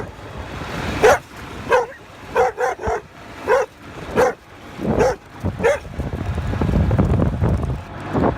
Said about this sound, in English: this is usually where the dogs decide they want to chase me